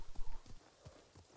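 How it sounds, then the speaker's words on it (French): A horse in Ghost of Tsushima gallops in quick irregular hoof thuds, a cluster of beats followed by a few spaced ones, faint and muffled in a low game mix. "Bon, je galope."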